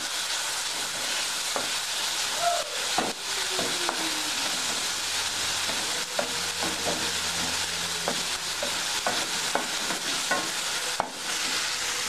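Onion sautés in a pan with a steady, hissing sizzle throughout, punctuated by intermittent taps and scrapes of stirring at a moderate distance.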